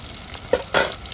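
Food fries in a pan during a home biryani cooking session, with a short stirring scrape and a brief burst of sizzle close by, no talking.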